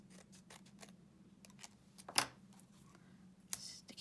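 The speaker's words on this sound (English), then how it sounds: "with my scissors, I'm just going to cut this little spare piece off" Scissors snip a small spare strip of paper off a card banner during papercraft, a few quiet crisp cuts spaced apart with one louder snip near the middle and another toward the end, no talking.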